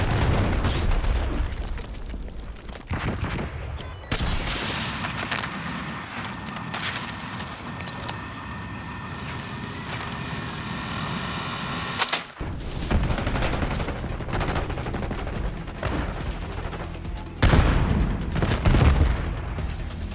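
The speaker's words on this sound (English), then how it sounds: "Breaking out rocket launcher." Rocket launcher blasts and gunfire in the first-person shooter Call of Duty: Black Ops 6, loud bursts of shots and booming explosions repeating throughout with brief lulls between volleys.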